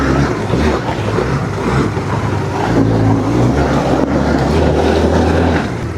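A free, repaired ATV with a slipping clutch on a test ride along a driveway: its engine drones loudly and continuously up close, the rumbling tone shifting slightly as it pulls.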